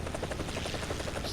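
Rapid rotor thumping of a helicopter flying low in a military video game, a loud, continuous chopping pulse over a dense engine whine.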